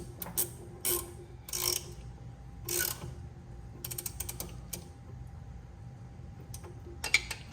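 A hand ratchet turns a 14 mm socket during a Jeep brake job, giving several short bursts of quick clicking, close and moderately loud, separated by pauses and light handling noise.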